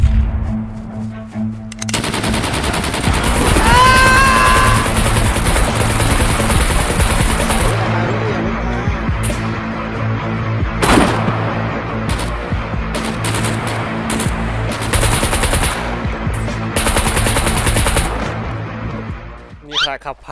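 Gunfire in the survival game SCUM: sustained heavy automatic shooting and loud reports over a dense rumbling backdrop for most of the span, with a sharp whistling sweep early on and voices talking underneath.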